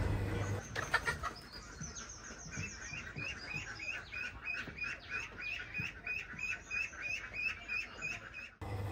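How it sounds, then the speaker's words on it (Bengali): Chickens file out of their coop in a village yard, a steady run of close, repeated clucks and squeaky calls overlapping one another, fairly soft overall. "আস্তে আস্তে মুরগিগুলো বের হয়ে যাচ্ছে।"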